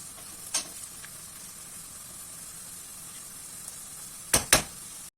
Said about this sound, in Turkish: 1-2 dakikada havuçları kavuruyorum